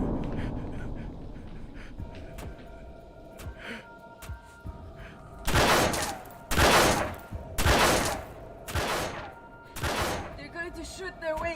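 Gunfire from The Complex: After Hours, a handful of loud, sharp bursts in quick succession striking near a door, following a quieter stretch of low rumble and faint clicks.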